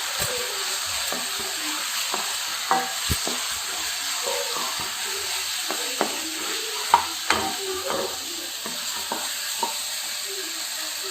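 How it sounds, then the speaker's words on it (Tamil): Spice masala of coriander powder, chilli powder, turmeric and garam masala sautés with onion and tomato in a pan for egg gravy, giving a steady soft sizzle with scattered close spoon scrapes and clinks throughout. "இதை வந்து இப்போ ஸ்லோவில் வச்சு அப்படியே வதக்குவோம் ஃப்ரெண்ட்ஸ்."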